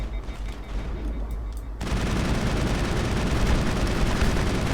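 Gunfire in the video game Mass Effect, a short faint patter that gives way to a loud, dense burst of sustained shooting and blasts.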